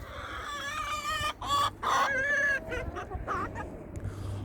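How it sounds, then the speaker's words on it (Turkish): Several village chickens cluck and squawk close by, a rising run of throaty calls with one louder drawn-out cry, over a low steady background hum. "Tavuklarımız geziyor"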